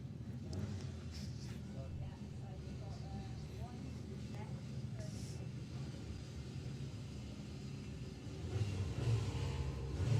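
A Golf R drag car launching down the strip at a VW drag racing event, a steady distant engine rumble building toward the end, with crowd and commentary ambience in the background.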